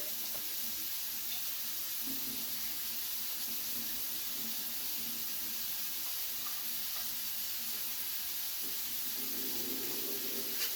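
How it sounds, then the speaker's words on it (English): Chickpeas sizzle and crackle steadily in a crowded hot frying pan, a constant hissing spatter with no talking. "this is probably a lot for that frying pan."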